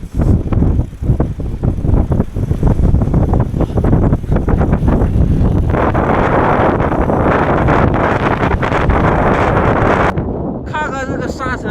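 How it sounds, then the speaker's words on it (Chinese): A ten-force gale drives sand and dust across open high-altitude land in Ngari, Tibet, roaring loudly and continuously as it buffets the microphone, easing slightly only near the end. "看看这个沙尘呼呼的过来"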